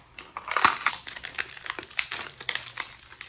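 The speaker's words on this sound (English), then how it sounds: "Remove the plastic barrier from the wax ring." Plastic barrier being peeled from a new toilet wax ring: close, dry crinkling and crackling of thin plastic, with a louder tearing burst early on, then scattered smaller crackles.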